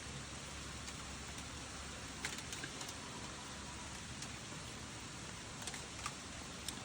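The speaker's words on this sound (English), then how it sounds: "it's raining here where I live" Steady rain falling and pattering on surfaces, with occasional louder drips, a continuous soft hiss with no voices.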